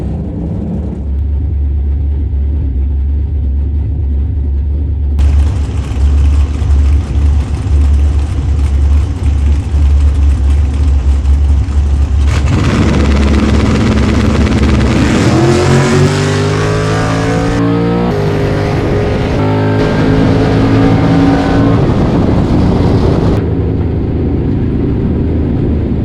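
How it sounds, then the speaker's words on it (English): A very fast dragster makes a drag racing run at an IHRA Summit Team Finals race in Eddyville, its engine droning loudly, then roaring and revving up through rising gear sweeps before fading away. "Got a really fast dragster."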